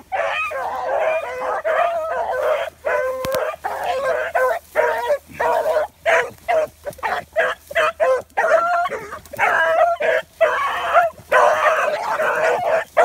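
Young beagle pups, about a year and a half to two years old, bark and yip in rapid, overlapping bursts, loud and close, with whimpers and howl-like cries mixed in and a person's voice briefly underneath.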